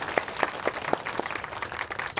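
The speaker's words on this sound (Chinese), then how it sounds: "大家掌声欢迎" A small audience claps in welcome for a teacher being introduced, scattered individual claps rising above a soft background of applause.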